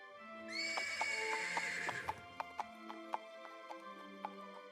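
A horse whinnies loudly in a video game, a long shrill neigh that trails off, followed by a string of sharp clip-clop taps and small knocks, with no one talking.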